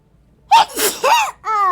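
A single loud, close sneeze with a sharp intake and burst, followed immediately by a brief voiced sound.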